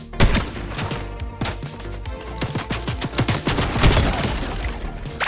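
Rapid bursts of automatic gunfire in Fortnite crackle densely and loudly, overlapping shots from several weapons in quick irregular volleys throughout.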